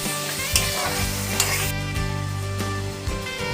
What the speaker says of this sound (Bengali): তো চিংড়ি মাছটা ভাজা হোক